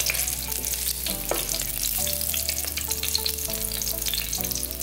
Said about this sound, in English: I do have a piece of onion, green onion, that I am gonna fry until it gets a little color